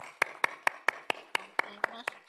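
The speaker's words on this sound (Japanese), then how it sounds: "会場の皆様、どうぞ安田先生にもう一度盛大な拍手をお願いいたします" Applause from a lecture audience following an oral health talk, heard as a steady series of about ten evenly spaced sharp claps, fairly soft and clear, with no voices over them.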